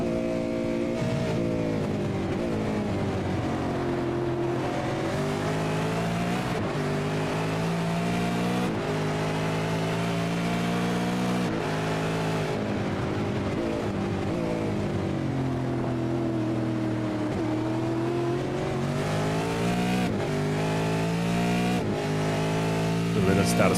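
V8 Supercar race cars, including a damaged Ford Mustang, lap Imola in a sim racing game, with engine notes droning and swooping up and down through gear changes. A commentator talks over the cars throughout.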